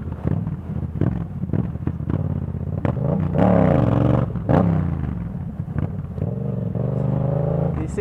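A motorcycle ridden on a road by a rider practicing wheelies without gloves, its engine revving up and down in rising and falling surges, close and loud.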